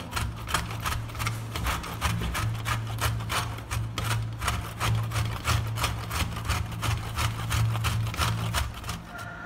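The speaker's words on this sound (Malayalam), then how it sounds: "ഇനി ഇത് നല്ലതുപോലെ ഗ്രേറ്റ് ചെയ്തെടുക്കാം." Orange peel being grated against a metal grater, a fast, even rasping rhythm of short scrapes repeating steadily and close by, with no voices.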